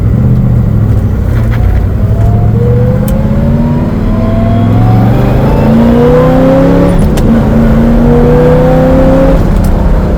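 Chevelle SS454 with an LS5 454 V8 accelerating hard through the gears, a loud, steady engine roar with rising gear whine sweeping upward in pitch, close and continuous for the whole stretch.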